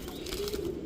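Pigeons at a bird market give a soft, low coo, faint and brief, lasting about a second with no voices.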